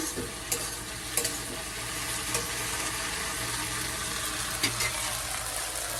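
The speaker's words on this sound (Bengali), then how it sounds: "আর এদিকে হচ্ছে ঢেঁড়স ভাজা" Okra sizzles steadily in a hot pan in a home kitchen, with a few scraping stirs breaking through the constant frying hiss.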